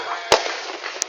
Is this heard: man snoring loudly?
no